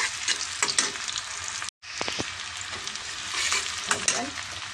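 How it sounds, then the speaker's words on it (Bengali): Onions frying in oil in a pan until light brown, a steady loud sizzle with stirring scrapes throughout, broken by a brief silent gap. "পেঁয়াজটাকে একটু হালকা বাদামি করে আমি ভেজে নেব।"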